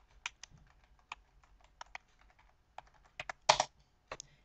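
Typing a root login on a computer keyboard over SSH: scattered sharp key clicks in an irregular rhythm, close and quiet, with a heavier cluster of keystrokes near the end.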